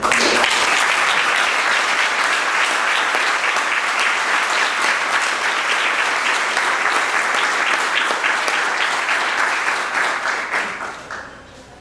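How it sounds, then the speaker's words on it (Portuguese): A seated audience applauds warmly in a sustained, even burst that holds strong for about ten seconds before tapering off quickly at the close. "eu gostaria também de sugerir uma salva de palmas para"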